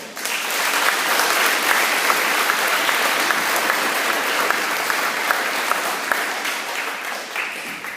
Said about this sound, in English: Let's give all those presenters that came in today a round of applause.